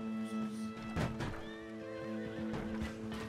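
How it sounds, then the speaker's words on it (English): Wild horses in Red Dead Redemption 2 let out repeated neighs and whinnies over clip-clopping hooves and a steady game ambience, fairly close, with no talk. "It's wild horses."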